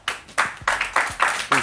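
Audience clapping for a band at a live show, coming in short loud bursts that swell and fade about every third of a second, fairly close and crowded.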